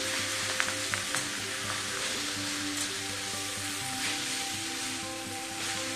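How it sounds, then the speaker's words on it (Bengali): Lettuce leaves frying with potatoes in a pan, a steady dense sizzle of hot oil with small crackles and an occasional stir, continuing unbroken for several seconds. "আবার এটা আমি 2 মিনিট ভেজে নেব আলুর সাথে"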